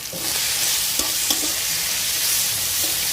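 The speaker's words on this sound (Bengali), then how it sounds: "কড়াইতে তেল দিয়ে দিয়েছি। এবার দেব পেঁয়াজ কুচি, দেব রসুন বাটা, এবার দেব আদা বাটা, দেব টমেটো কুচি" Onion, garlic, ginger and tomato fry in oil in a kadai for a quick biryani, a steady close sizzle with a few soft clicks of stirring and no voices.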